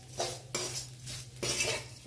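Metal utensil scraping and stirring grated coconut frying in oil in a pan, with a faint background sizzle and a few distinct clanks spaced through the short stretch.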